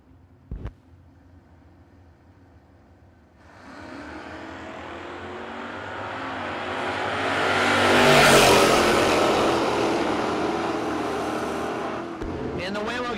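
Drag race cars, one of them a Camaro, launch at a no-box bracket race and roar down the strip, engine noise building loud and broad to a peak before easing off, with a brief sharp crack at the start.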